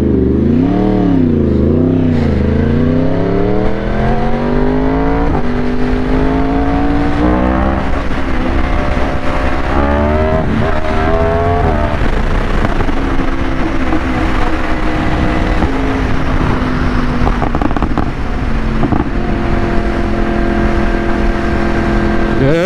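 Yamaha R1 sport bike engine accelerating hard toward top speed, loud and close, with rising revs swept through several gear shifts, each upshift dropping the pitch before it climbs again, over steady wind roar.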